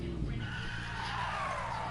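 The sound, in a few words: car engine revving in the video game Need for Speed Payback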